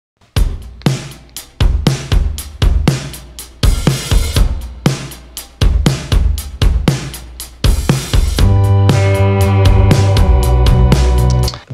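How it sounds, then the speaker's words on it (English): Full drum kit from a rock band recorded live in one room with three mics, loud and close: steady kick and snare hits with crashing cymbals, mixed with the band, ending in a sustained ringing chord. "Coming up with a drum sound like this,"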